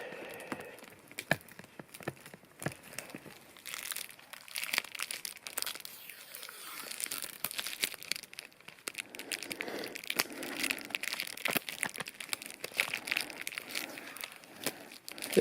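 Brand-new PS1 game being unwrapped from its plastic packaging and sticker, with close, quiet crinkling and tearing of plastic in irregular bursts.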